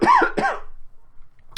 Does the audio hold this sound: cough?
yes